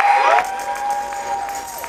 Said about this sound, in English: please show your love. Start clapping right now.